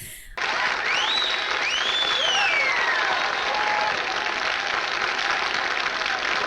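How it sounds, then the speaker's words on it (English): Enthusiastic applause and catcalls from a 1947 film scene, a steady, dense roar of clapping with rising and falling whistles that runs throughout, with no talk over it. "this trickle of bored claps turns into a roar of enthusiastic applause and catcalls"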